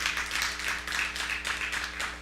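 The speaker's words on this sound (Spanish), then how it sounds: "Alguien le da un aplauso al Señor." A church congregation applauding in praise, steady clapping rising and falling in loose waves, moderately loud and fairly close, with no voices over it.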